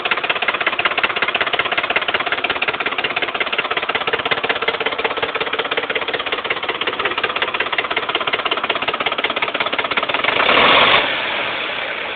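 A 2008 Ford F-150 with the 5.4 V8 knocks at idle with a rapid, steady mechanical ticking that runs the whole time. It swells briefly near the end, with no talking.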